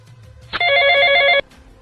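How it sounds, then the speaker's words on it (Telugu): A phone rings once, a loud electronic tone lasting just under a second, with quiet background before and after. "వీడు ఫోన్ చేస్తున్నాడండి."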